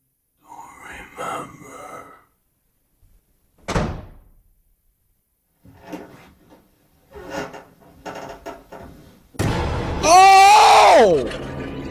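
A door slams in a horror video game, a single sharp thud standing out between bursts of someone talking and exclaiming, followed by a loud rising vocal reaction.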